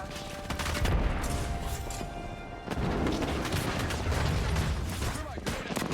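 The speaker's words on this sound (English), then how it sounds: "That's a grenade." A grenade goes off in a video game amid continuous loud booming and rumbling battle noise, with gunfire and a voice talking over the din.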